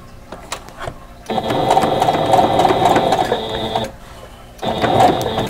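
A sewing machine stitching quilt block units together, running in two rapid mechanical bursts separated by short pauses, close and clear, with light clicks before the first run.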